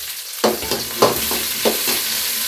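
Tomatoes tipped into a frying pan with curry leaves and stirred, loud close sizzling with a few distinct stirring scrapes at regular intervals over a continuous hiss.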